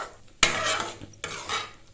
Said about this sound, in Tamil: சேர்த்து கிளறி விட்டு ஒரு 2 மினிட்ஸ் கொதிக்க விடுங்க